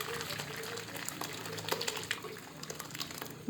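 Boiled buttermilk being poured through a cloth to strain out paneer, a steady splashing liquid pour with soft clinks, faint voices mixed in.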